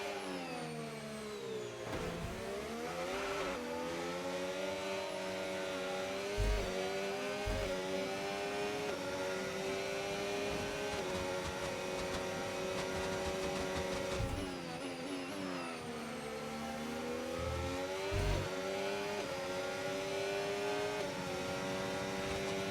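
A Formula 1 car in a racing video game pulls away from a pit stop, its engine droning loud and continuous with rising and falling pitch sweeps as it shifts through gears, a few brief thumps marking the changes.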